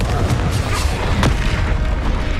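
A Confringo fire spell blast from the Hogwarts Legacy PC game: a loud, continuous rumbling boom with dense low crackle and a sharper burst midway, filling the whole short moment.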